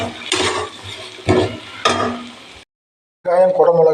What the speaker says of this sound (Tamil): இது கோல்டன் ப்ரௌன் வர வரைக்கும் வதக்கலாம்